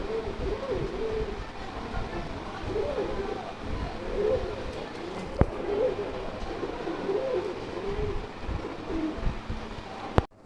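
Imported pigeon cooing nearby in soft, repeated low throaty phrases over a steady background hum, with a sharp click midway and another near the end.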